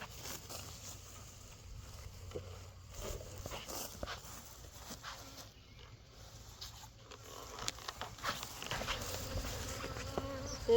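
Dense buzzing of many honey bees around a crowded hive fills the scene continuously, a steady swarming drone with occasional louder passes close by.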